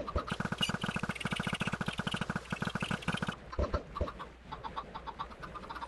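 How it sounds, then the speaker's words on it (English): Chickens cluck on an AFK chicken farm in Minecraft, a dense run of rapid, rhythmic game sounds for about three seconds, then sparser, quieter clucks and clicks. "my entity count says there's about 27 chickens right there"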